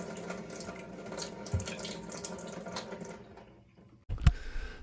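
Water dripping into an indoor sink gives faint, irregular drips and trickling over a low background hum, ending with a sharper, louder splash.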